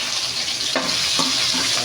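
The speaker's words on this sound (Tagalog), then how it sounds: "Kailangan pa ipa-fried nyo muna yung sili" Chili peppers and garlic, skins left on, frying in hot oil for a spicy adobo, a dense close sizzle with a few brief stirring scrapes breaking through the steady crackle.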